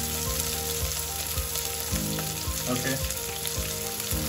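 Green chili sizzling in hot oil while biryani masala fries in a pan, a steady dense crackle with rhythmic stirring knocks throughout, close and loud, with a brief spoken word at one point.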